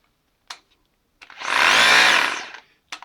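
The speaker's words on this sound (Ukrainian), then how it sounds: "Це звичайне свердління" A short burst of drilling from a Bosch GBH 180-LI cordless rotary hammer, roughly a second long, loud and close, with brief clicks before and after.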